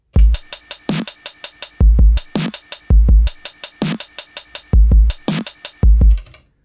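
A programmed drum loop plays on an Elektron Digitakt drum machine, punchy kicks and snappy hits in a repeating groove with tight hi-hat ticks, loud and clean with no talking.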